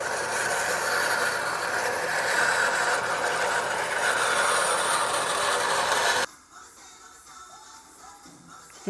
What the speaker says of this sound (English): so that I can sand and grind down to the steel of the handle